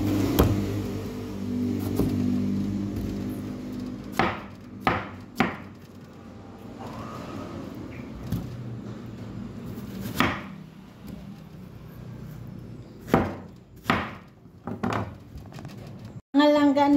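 A knife slices through a melon, several sharp close cuts and thuds striking a board at irregular intervals, with people talking intermittently between the cuts.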